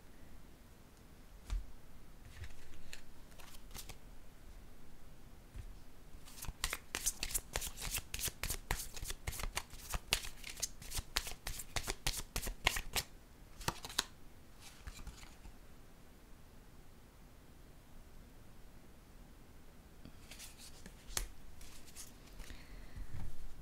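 A deck of cards for a card reading is shuffled in several quick riffling bursts, close and soft in a quiet room, with a long run of crisp flutters in the middle.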